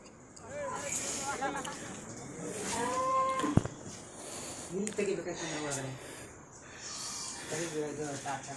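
A calf moos several times while being swept along in lake water during heavy rain in Karnataka, its drawn-out, wavering bleats rising over a murmur of voices and background noise.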